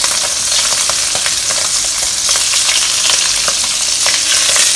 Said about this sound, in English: use back the same oil, but I need to add it a little bit more because we are going to fry the egg tofu